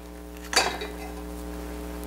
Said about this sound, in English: Just going to give this a quick toss and stir